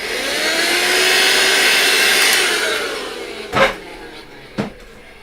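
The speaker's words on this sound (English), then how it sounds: "I just want to vacuum here." A small vacuum cleaner runs steadily at close range for about three seconds, then winds down and cuts off, followed by two sharp knocks.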